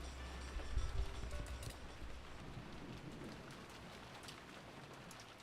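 Faint, steady rainfall hisses throughout the video game Umineko no Naku Koro ni Chiru, with a low rumble of distant thunder near the start.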